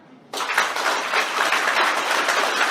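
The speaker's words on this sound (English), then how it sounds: "What you do is clap so well, your whole body jerks." A hall full of first-year engineering students bursts into loud, vigorous clapping that starts abruptly and carries on as a dense, sustained roar of hands.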